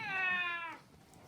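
A cat named Meowsy gives a single drawn-out meow, close and clear, fading into quiet room tone in a sewing room.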